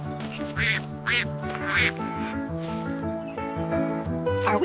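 A cartoonish voice imitates a duck, giving several bright, nasal quacks in a quick, uneven series, loud and close against a busy musical backing.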